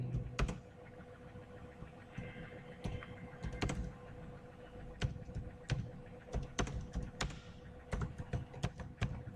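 Fingers type on a computer keyboard in a quiet room, with quick irregular bursts of clicky keystrokes, brief pauses between words and occasional sharper taps, all close and clear.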